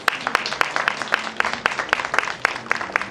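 Applause from a small gathering at an outdoor bench unveiling ceremony, a few people clapping steadily in distinct, fairly close claps for about three seconds.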